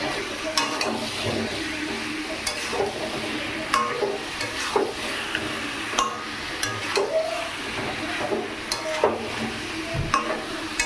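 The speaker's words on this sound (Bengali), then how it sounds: "আলুগুলো দিয়ে একটু কষিয়ে নেব।" Potatoes and mutton are stir-fried together in a pan, giving a low sizzle broken by repeated scraping stirs and light clinks, close and fairly quiet, with no one talking.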